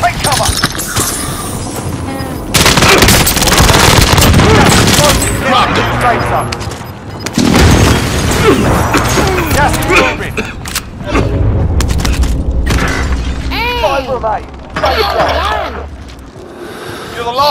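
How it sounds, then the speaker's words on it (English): Heavy explosions and gunfire from an enemy precision airstrike in a shooter video game, loud booms and bursts rolling on and off across the whole stretch, with game voices and a player talking over the blasts. "Enemy precision airstrike. Take cover."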